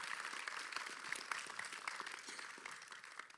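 Faint, distant crowd applause at the official presentation of the 2023 Tour de la Guadeloupe cycling race, a dense, steady patter of many hands that tapers off slightly toward the end.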